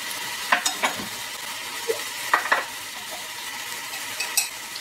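Fresh garlic, about half a teaspoon, sautéing gently in a pan for a blue crab omelette: a soft steady sizzle with a few light stirring taps and scrapes, no talk.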